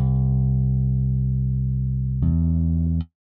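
A sampled guitar-style bass synth sustains a deep, steady note, then glides legato into a second note about two seconds in before cutting off.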